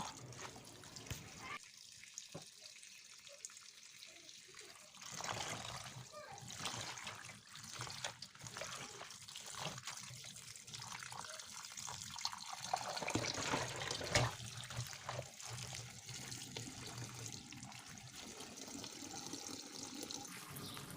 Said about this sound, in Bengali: প্রথমে শাকগুলোকে ভালো করে ধুয়ে তারপরে কেটে নেব